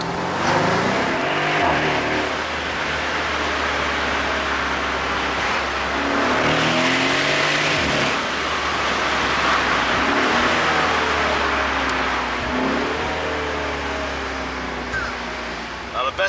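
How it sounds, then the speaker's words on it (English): Twin-turbo V8 of a 2013 Mercedes-Benz SL63 AMG hardtop convertible pulls hard in a steady, loud drone with rising and falling pitch sweeps as it accelerates through gears, and someone talks over the engine throughout. "a twin turbo V8 is nothing to be ashamed of, especially when it drives like this."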